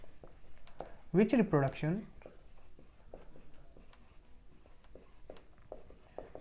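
A pen writes notes by hand on paper or a board, producing soft scratchy strokes and taps in short bursts, while someone talks over them for a moment.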